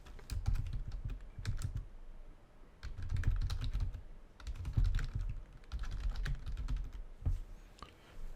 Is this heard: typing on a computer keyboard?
yes